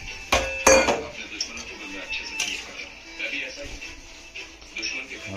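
A thin chicken curry is stirred in a pot, with a metal spoon clinking and scraping against the sides in a few sharp strikes, followed by softer bubbling and stirring sounds.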